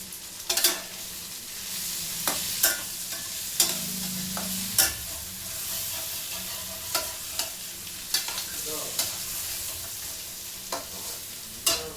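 Vegetables for kurma sizzle steadily in a pan while a utensil scrapes and clinks against it every second or two, close up, with no talking.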